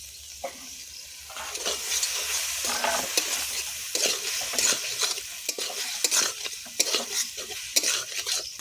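Dhaba-style egg curry masala sautés in a pan, a constant sizzle under repeated scraping and tossing strokes of a spatula, fairly close and with no talk.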